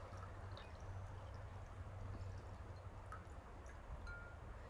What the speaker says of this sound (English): So first we're going to add some water to our first cup, some water to our second cup.